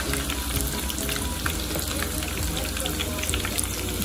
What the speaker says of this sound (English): Grease is popping everywhere on my stove.